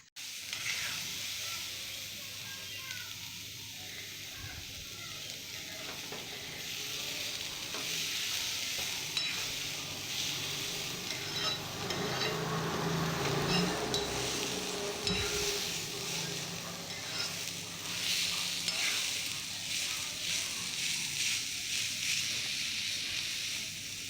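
Grated carrot stir-fries in a pan for poriyal, giving a steady, close sizzle and hiss with occasional scraping and stirring that swells a little louder midway, without speech.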